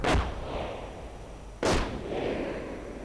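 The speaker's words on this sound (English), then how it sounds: "Sector artillery goes off again, but this time too late." Sector artillery firing in a World War II strategy video game: two loud, close booming blasts about one and a half seconds apart, each with a sharp crack followed by a long rumbling decay, no voices.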